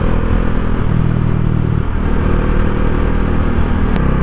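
A 2019 Bajaj Dominar motorcycle engine runs close and loud with a steady, throbbing rumble. The rev holds nearly constant throughout, with a slight dip partway through and no talking.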